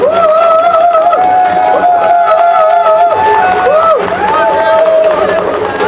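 A crowd at an outdoor election campaign rally cheers for a supporters' cheering squad, loud sustained shouting and chanting voices rising over a bed of clapping and crowd noise.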